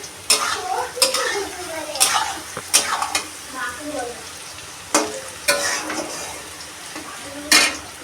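Stirring in a cooking pot at home, with a spoon scraping and clinking against the sides in repeated short bursts over a soft background sizzle.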